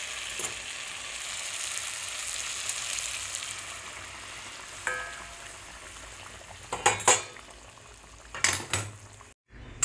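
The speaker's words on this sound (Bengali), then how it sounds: "এবার আমি গরম জলটা দিয়ে দেবো" Hot water goes into a sizzling ridge gourd and tomato curry in a pan. A quiet, steady sizzle breaks into a few louder bursts with clinks of utensils near the end.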